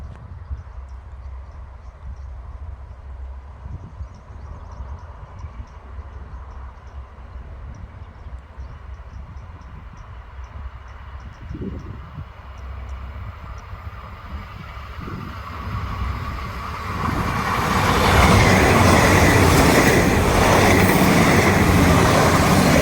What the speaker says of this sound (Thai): มาแล้วครับ รถด่วน 76 นะครับ